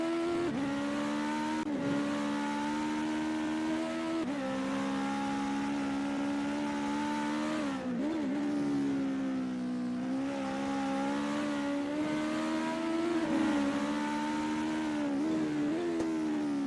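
Simulated US Legend car lapping Ahvenisto in a racing game: a sustained buzzing engine note swelling and falling as it shifts and brakes, with a brief dip around a corner, steady loudness, no voices.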